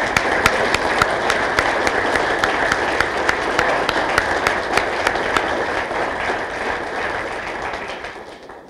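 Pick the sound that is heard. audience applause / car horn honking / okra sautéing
audience applause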